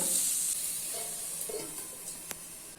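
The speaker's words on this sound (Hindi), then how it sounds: "ऑनियन को 3 से 4 मिनट तक मीडियम फ्लेम पे बीच बीच में स्टर करते हुए फ्राई कर लेते हैं।" Onions frying in a pan on a medium flame, a soft steady sizzle with a few faint stirring scrapes, close and alone.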